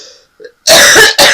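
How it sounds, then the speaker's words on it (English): Two harsh, loud coughs close to the mic, the first longer and the second a short follow-up, after a brief faint vocal sound. "I have an awful cough, and it's going to come up"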